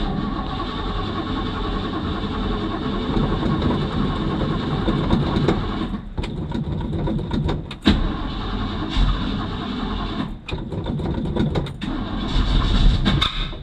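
A Ford Mustang with a weak, low battery cranks and runs roughly, a loud continuous engine rumble broken by several abrupt dips and bursts as it struggles, recorded close with no speech.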